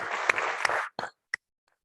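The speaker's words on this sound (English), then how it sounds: "So let's give them all a round of applause." Audience at a college State of the College event applauding local trustees, a short burst of steady clapping that fades out quickly, leaving a few isolated claps.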